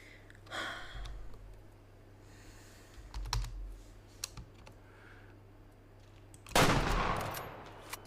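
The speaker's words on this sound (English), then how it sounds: "I think we can reasonably get a 300-meter shot on this guy" A hunting rifle fires once in the video game Way of the Hunter, a loud burst with a short tail near the end, after a few quieter clicks and soft thumps in an otherwise quiet scene.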